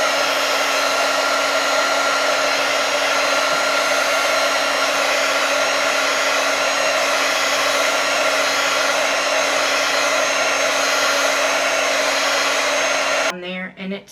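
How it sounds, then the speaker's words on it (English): An embossing heat gun blows hot air over alcohol ink on a tumbler, a loud, steady rushing roar with a constant hum that runs unbroken almost to the end and then cuts off abruptly. "now I'm going to use just a regular embossing gun"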